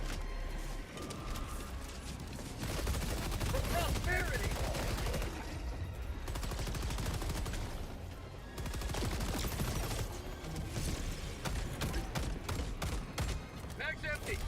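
Sustained rapid gunfire from a weapon in the Helldivers 2 video game empties its magazine, dense continuous bursts at moderate loudness over busy battle noise, with voices in the clip.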